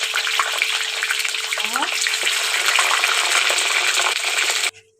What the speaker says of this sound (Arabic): ودي يا جماعه بعد ما حمرنا البطاطس اهو